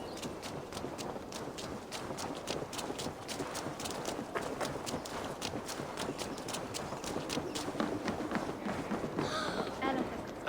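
Horse hooves clip-clop in a steady, fast rhythm throughout in the video game Assassin's Creed Valhalla, a continuous galloping patter against a busy background.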